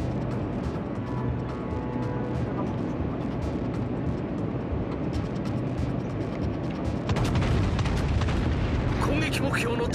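Naval gunfire in World of Warships: Legends rumbles through deep booms and explosions, a dense rolling barrage that swells louder toward the end, with a voice talking over it.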